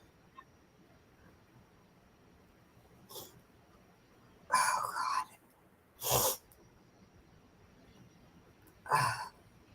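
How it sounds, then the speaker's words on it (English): A small, sharp sneeze stands out in a quiet room, among a few other brief bursts of breath-like noise with silence between them. "got one little sneeze"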